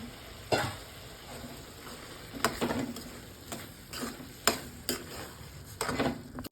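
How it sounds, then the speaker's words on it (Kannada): A spoon scrapes and stirs boiled peas and potatoes into a pan of spiced masala for aloo matar sabzi, giving soft, irregular clinks and scrapes close by over a faint sizzle. "ಈಗ ನಾವು ಬೇಯಿಸ್ಕೊಂಡಿದ್ವಲ್ಲ ಬಟಾಣಿ ಮತ್ತು ಆಲೂಗಡ್ಡೆ ಹಾಕ್ಕೊಳ್ಳೋಣ."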